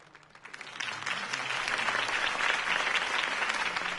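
Crowd applause swelling after a campaign speech in the Telltale Batman game, starting faintly then rising into steady, dense clapping from a large audience, heard alone.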